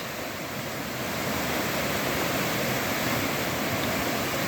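A swollen little creek along a trail, normally only as wide as the path, rushes loudly and steadily in a dense, continuous roar of water close by, with no voices.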